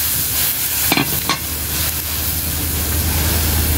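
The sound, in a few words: stirring second coconut milk into sizzling vegetables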